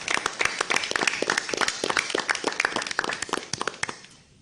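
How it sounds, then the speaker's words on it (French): Applause from attendees at a municipal council meeting in Rouyn-Noranda: a room of hands clapping in a dense, moderately loud patter that thins into a few last claps and fades out. "J'ai envie d'applaudir pour Luc."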